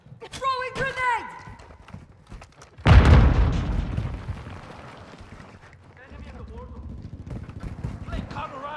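A grenade blast in Call of Duty Vanguard, one loud, deep boom whose rumble decays over a few seconds, with in-game voice callouts before and after.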